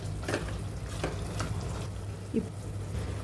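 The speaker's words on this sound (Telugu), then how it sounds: "ఒక 2 మినిట్స్ ఫ్రై చేసుకోవాలి." Mutton haleem masala stir-fried and mixed in a pan, with a low steady sizzle and a few soft scraping stirs spread across the stretch.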